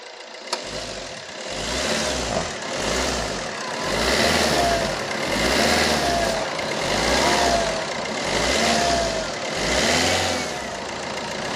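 Multijet diesel engine of a Fiat Linea revved repeatedly after MAF sensor cleaning: six rising and falling surges in a regular rhythm over a steady idle, close and loud.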